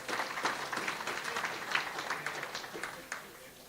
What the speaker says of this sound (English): So can we give them another very big round of applause?